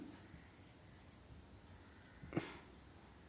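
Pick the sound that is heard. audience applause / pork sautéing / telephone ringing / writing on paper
writing on paper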